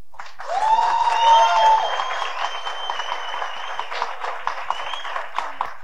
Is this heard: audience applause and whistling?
yes